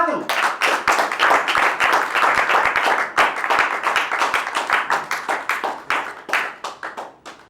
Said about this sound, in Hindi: आपकी तालियों में तशरीफ लाते हैं मलक खादिम।